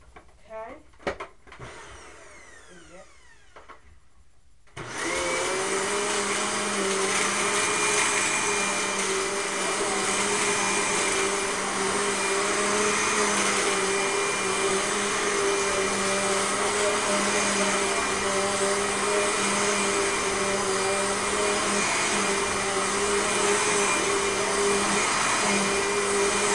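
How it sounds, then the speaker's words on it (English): A red Dirt Devil vacuum cleaner switches on after a few seconds of quiet handling noise, then runs with a loud, steady, unbroken motor whine and airflow roar to the end. "Now the red Dirt Devil."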